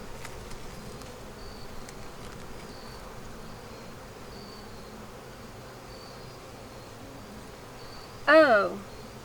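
Honeybees hum at an open beehive, a faint, steady background buzz with brief tones that come and go, then a short louder burst of buzzing near the end.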